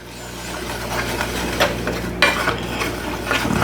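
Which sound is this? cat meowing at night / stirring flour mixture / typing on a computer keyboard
stirring flour mixture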